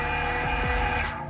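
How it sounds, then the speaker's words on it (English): A small belt-drive lathe in an RC shop hums and whirs steadily nearby, with a faint rhythmic mechanical ticking for about a second. "It's an actual lathe that has hand controls."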